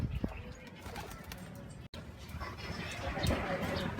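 Racing pigeons at a loft in Ibaan, Batangas, soft cooing and faint chirps against outdoor background noise, with someone talking over them.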